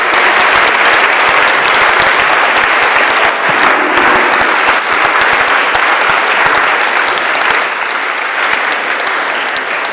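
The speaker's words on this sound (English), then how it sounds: "Another round of applause for our guests" An audience at a retrospective panel on Robert Venturi gives its guests a sustained round of dense, loud applause, the clapping continuous and even throughout.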